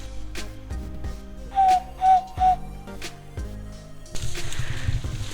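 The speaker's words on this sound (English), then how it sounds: "The guides do all these noises so they can find each other when they find the chimps." A forest guide whistles to signal other guides while tracking chimpanzees in Kibale, Uganda: three short, clear whistle notes in quick succession, fairly close, amid quiet forest ambience and rustling.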